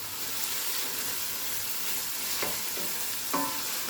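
A butterbean curry with whole spices, garlic and ginger sizzles steadily in a pan, with a couple of brief scraping stirs near the end.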